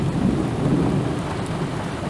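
Thunder rumbles low and continuously through steady heavy rain during a severe thunderstorm with a supercell in Bavaria, Germany, loud and close with no talking.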